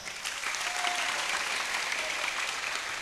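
Sustained crowd applause fills a religious gathering led by a habib in Probolinggo, a dense steady clapping that holds at even loudness throughout with a faint voice briefly audible.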